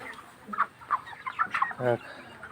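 Broiler chickens on a poultry farm cluck in short, soft bursts, several faint calls close together over quiet background.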